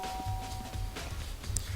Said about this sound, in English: I placed my finger on the bell.